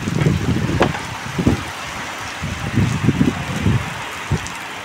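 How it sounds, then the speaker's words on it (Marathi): Rainwater pours off a roof during rain, a steady outdoor wash of falling water with irregular heavier splashing bursts up close. "पावल्यानं पाणी आला हो."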